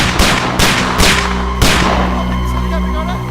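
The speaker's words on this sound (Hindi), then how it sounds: "लगता है कोई गोली चला रहा है।" Several sharp gunshots crack in quick succession, loud and close, followed by a lingering low rumble with no voices.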